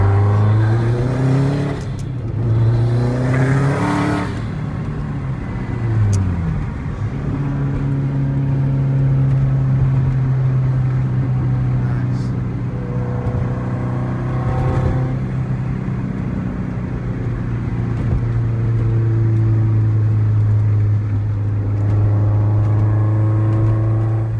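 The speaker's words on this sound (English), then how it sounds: "Go straight and you can hear the turbo because it's like right here." A modified 2004 Subaru STI engine drones steadily and rises in pitch as it accelerates, with a whirring, whooshing turbo tone layered over the continuous motor noise.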